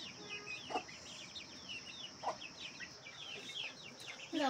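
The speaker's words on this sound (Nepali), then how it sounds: "यो कुखुराहरू भित्रै आउँछ सबै" Several chickens cluck and chatter nearby in a busy, overlapping stream of short calls, with a few louder squawks breaking through.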